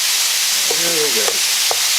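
Ground beef with peppers and onions fries for chili, giving a steady hissing sizzle throughout with a short squeaky scrape of stirring in the middle.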